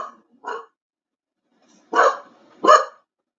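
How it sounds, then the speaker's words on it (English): A dog barks indoors in four sharp, loud, close barks: two short ones, a pause, then two stronger ones, with silence between. "What are you barking at?"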